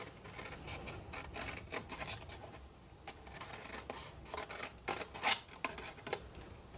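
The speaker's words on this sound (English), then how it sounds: "all I'm doing is I'm literally cutting away the groove where I use my scoring tool" Blade cutting along a scored groove in card, a series of short dry scraping and snipping strokes close up, irregular in rhythm, with no talking.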